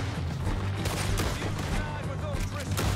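Gunfire in Red Dead Redemption 2 crackles in a dense, continuous exchange of shots with a low rumble beneath, at a steady moderate level with no talking.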